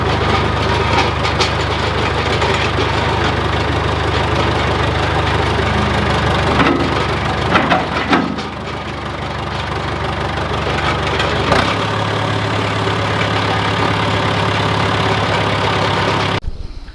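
Old John Deere backhoe diesel idling steadily, loud continuous low rumble with a brief dip and change in tone partway through, close by and uninterrupted.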